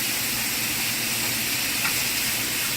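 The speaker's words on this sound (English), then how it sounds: "So I've gotten my ground beef in a hot pot, and I'm going to go ahead and I'm going to brown this thoroughly through" Ground beef browning in a hot pot gives a steady, close, even sizzle and hiss that never lets up, with no voices.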